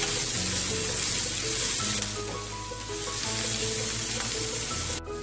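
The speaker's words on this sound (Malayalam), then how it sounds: "ഇതിലേക്ക് നമുക്ക് അരിഞ്ഞു വെച്ചിട്ടുള്ള ഉള്ളി നമുക്ക് നന്നായിട്ടൊന്ന് വഴറ്റാം." Chopped onions sauté in a little oil in a pan, producing a continuous close, bright sizzle with occasional stirring scrapes and no talking.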